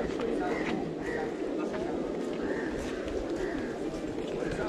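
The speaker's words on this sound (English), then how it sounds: "So many pigeons." Pigeons coo softly in a busy city square in Kathmandu, Nepal, a low repeated burbling under steady crowd and street noise.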